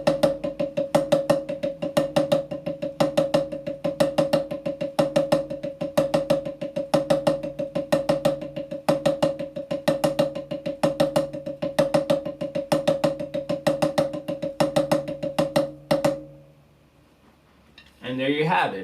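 Drumsticks play a double paradiddle rudiment with accented single strokes and upbeat accents, a fast, even, close stream of sharp hits that runs for about sixteen seconds and then stops, followed by a short pause and a brief voice.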